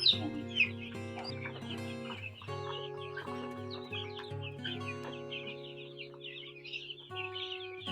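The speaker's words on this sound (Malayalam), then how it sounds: "നല്ല മുട്ടയിടുന്ന കോഴികളാണ് ഇതൊക്കെ" Hens cluck and murmur close by in a steady, overlapping chorus, with a few sharper calls rising above the flock and no talking.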